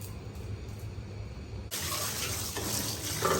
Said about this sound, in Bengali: এখন আমার ছাড় লাউ আর পেঁপে ভালো করে ধুয়ে নিতেছে